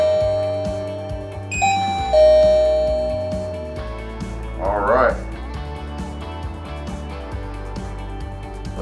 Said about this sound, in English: We'll test our doorbell.